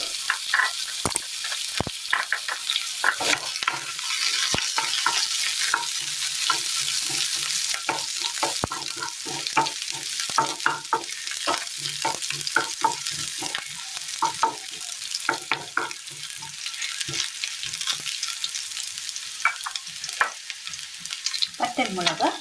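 Mustard seeds and spices fry in hot oil in a pan on a stove for a Kerala curry, giving a steady bright sizzle broken by frequent sharp crackles and pops, close and loud with no voices.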